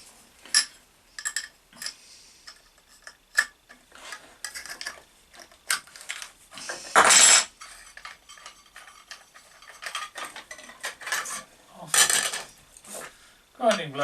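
Clinks and clicks of metal parts as a grinding disc is fitted onto a Parkside PWS 125 F5 125mm angle grinder, with scattered sharp taps, one louder scraping burst midway, close and fairly quiet.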